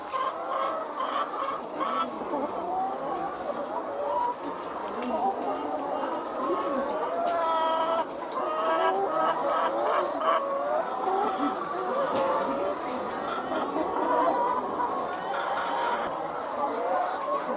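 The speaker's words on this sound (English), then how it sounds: "enjoy the noise from the chickens" Many laying hens clucking and chattering continuously nearby, a busy flock sound with occasional louder squawks.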